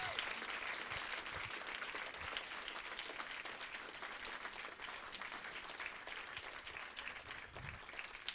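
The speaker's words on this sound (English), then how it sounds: "Let's give them a big round of applause." Audience applause for cooking contestants at a Top Chef competition event in Keene, a dense, steady crowd clapping that holds at full strength throughout.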